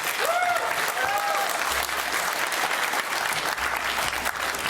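Audience at a public debate breaks into loud, sustained applause with cheering, a dense continuous wash of clapping lasting throughout, with a few whistles near the start.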